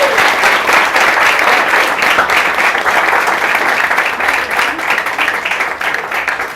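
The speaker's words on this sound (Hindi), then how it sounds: "एक बार मेरे तरफ से नैतिक के लिए जोरदार तालियां" A loud, steady round of applause from the audience at a prize distribution, with dense clapping sustained for several seconds close by.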